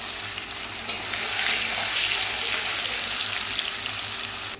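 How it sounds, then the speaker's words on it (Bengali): Paneer fries lightly in hot oil with a continuous close sizzle, which swells into a louder, fuller hiss after about a second and then holds steady, with no voices. "একদম হালকা করে ভাজবো যাতে পনিরগুলো ভেঙে না যায়।"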